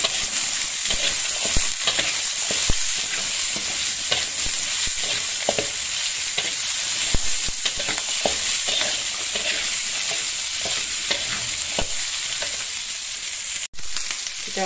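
Corn and water spinach stir-fry in a hot pan with a steady, close sizzle, punctuated by scraping and stirring sounds, with no voices.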